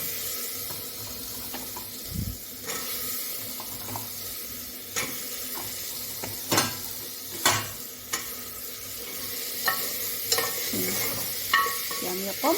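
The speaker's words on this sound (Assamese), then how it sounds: "এতিয়া মই কঁঠালখিনি ঢালি দিম।" Jackfruit pieces tipped into a pan of fried spices and stirred, a steady sizzle running throughout with scraping stirs and sharp clatters of the spoon against the pan at irregular intervals.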